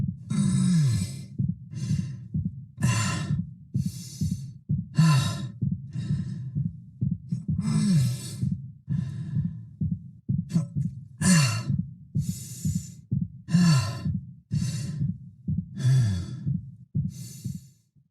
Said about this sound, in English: So hearing those injured winces, those fatigued breaths mixed in with his regular breathing actually sounds quite natural.